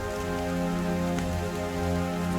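Rain ambience plays behind a Curse of Strahd Dungeons & Dragons session, a constant hiss of falling rain blended with a sustained low tonal drone, loud and unbroken throughout.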